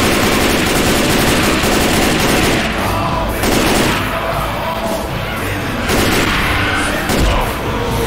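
In the zombie shooter Left 4 Dead 2, a pipe bomb goes off amid heavy gunfire: a loud, dense barrage of rapid shots with several booming bursts, close and continuous.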